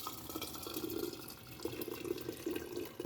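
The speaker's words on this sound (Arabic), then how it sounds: "هسا ادير المية الحمص، بس ايش اتحكم فيها" Kitchen tap water running onto a strainer holding chickpeas: a steady, fairly quiet splashing stream with uneven gurgling pulses, close by, with no talking.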